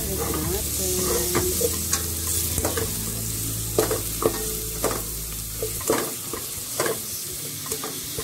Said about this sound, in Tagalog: So, ito na yung tostado natin na garlic.